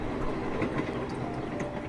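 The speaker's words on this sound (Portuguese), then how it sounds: "O som dos trilhos mantinha um ritmo constante, previsível" Train wheels rolling over the rails inside a moving carriage, a steady low rumble with faint rhythmic clicks and light squeaks, fairly quiet and with no voices.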